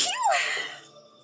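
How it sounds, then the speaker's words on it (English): A single person's sneeze, a sharp rising burst that trails off into breathy noise, loud and close, with no talking around it. "I'm going to sneeze."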